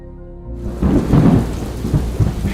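A nighttime thunderstorm in Nairobi rumbles with low, rolling thunder over a steady wash of heavy rain, growing louder after a quiet opening moment.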